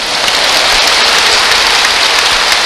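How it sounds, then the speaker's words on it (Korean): A church congregation claps together during a sermon, a steady dense roar of many hands sustained evenly throughout and close. "성령을 통하여 하나님 아버지께 박수"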